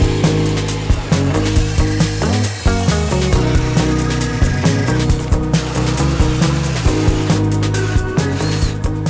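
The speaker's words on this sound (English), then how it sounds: "We're going to drill those holes now and hope to God they go well." A power drill whirs steadily and loudly, its motor pitch rising and dipping as it bores into wood in repeated bursts.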